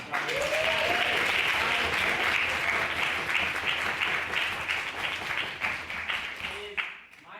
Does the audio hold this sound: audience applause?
yes